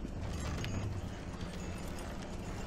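Horse hooves clip-clop in the video game Red Dead Redemption Online, a steady rhythmic trot of hoofbeats close by, heard alone over a low ambient background.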